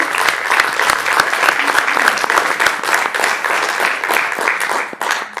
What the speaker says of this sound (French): Je pense qu'on peut les applaudir déjà pour commencer.